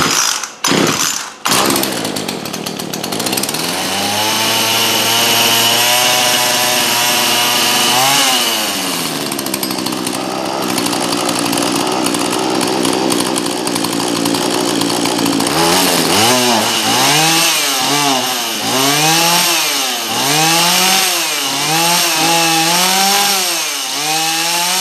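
A Husqvarna 235 chainsaw with a newly replaced carburetor, choke on, catches after a few quick pulls. It then runs loud and close, holding a steady idle before revving up and down repeatedly in rising and falling surges.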